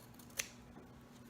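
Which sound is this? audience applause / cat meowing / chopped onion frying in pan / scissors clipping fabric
scissors clipping fabric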